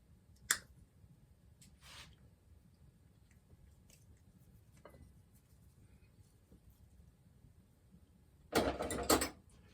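A slightly larger bonsai cutter snips off a branch: a few faint, sparse clicks over a quiet background, then a louder, close crunching cut near the end.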